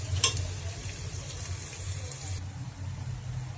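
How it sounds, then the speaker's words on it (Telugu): Cut green chillies fry in a pan with a soft, steady sizzle, a brief clatter as they drop in near the start, then a faint continuous hiss at close range. "పచ్చిమిర్చి కూడా వేస్తున్నాను. చూడండి వేగాలి కదా అవి."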